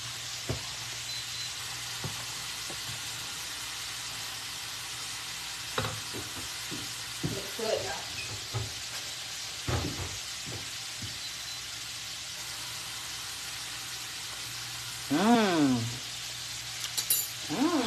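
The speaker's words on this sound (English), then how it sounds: "pressure cooker has stopped, so I'm gonna stir this" A spoon stirs mac and cheese in a pressure cooker with soft scraping and sticky sloshing under a low steady hiss, building to a louder burst of stirring near the end.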